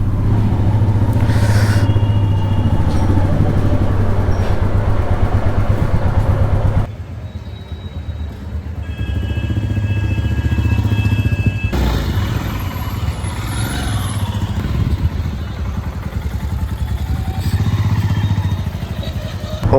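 A rented Royal Enfield Meteor motorcycle is ridden on a road from Siliguri toward Darjeeling, its engine droning loud and steady with wind rush, dipping briefly partway through and rising again; voices can be heard faintly in places.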